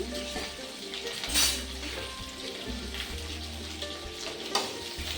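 Vegetables fry with a steady close sizzle in a pan, broken by a couple of louder bursts of spattering and the light scrape and clink of a utensil tossing them.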